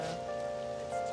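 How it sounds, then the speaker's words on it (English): Steady rain falls on city streets in the video game Persona 5 Royal, a soft continuous hiss under a sustained musical tone, with no speech. "I feel so down when it's raining."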